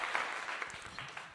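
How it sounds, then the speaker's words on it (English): A small group claps briefly for a guest during a conversation, a short, moderately loud burst of hand claps. "I'm gonna give him a clap."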